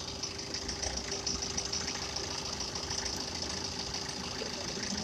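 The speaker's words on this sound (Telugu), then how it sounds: "ఒకసారి మనం ఇంజిన్ నాయిస్ కూడా అబ్జర్వ్ చేయొచ్చు" A diesel bus engine idles steadily at an RTC depot after a carbon-cleaning injection treatment. It gives a quiet, even hum with a faint tonal drone and no talk over it.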